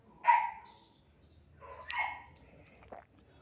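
A dog outside gives a few separate barks and yelps, sharp calls spaced over a few seconds against an otherwise quiet background.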